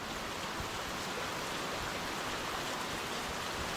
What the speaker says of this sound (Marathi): तुफानी पाऊस आहे तुफानी